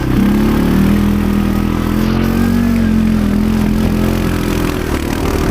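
Quad bike engine revving loudly on a mountain trail in the Carpathians, near Vorokhta and Mount Magura, a steady close drone that holds throughout with no talk.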